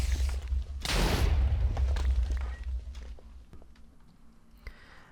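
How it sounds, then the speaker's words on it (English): A small explosion from an Unstable enchantment in Minecraft OpenBlocks lands as a single muffled boom with a rumbling burst that fades over a few seconds. A few faint clicks and taps follow it. "you will cause a small explosion"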